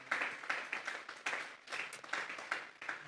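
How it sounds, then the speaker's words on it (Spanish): During a church sermon, a congregation claps together in faint, rhythmic bursts, the hand claps swelling and dipping in a quick pulse at a distance. "Vamos a darle una ofrenda de palmas a Dios en esta tarde."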